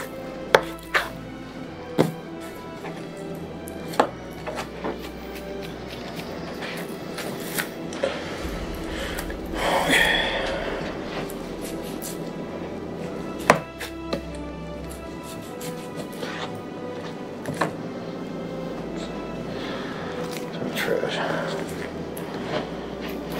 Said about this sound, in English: and then you just trim off some of that fat cap